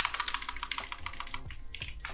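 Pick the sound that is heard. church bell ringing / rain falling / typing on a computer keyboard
typing on a computer keyboard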